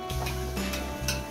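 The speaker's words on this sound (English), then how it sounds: "After boiling, we're taking our meatballs out of the grease." Meatballs are lifted out of hot frying grease in a pan, with a soft steady sizzle and a few light scraping and ticking utensil sounds close by.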